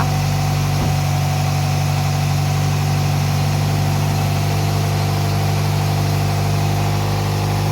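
A 2005 Toyota Vios automatic sedan with an original engine bay idles steadily and smoothly, a constant low mechanical hum with a faint click early on and no speech over it.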